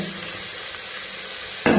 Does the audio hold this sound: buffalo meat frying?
yes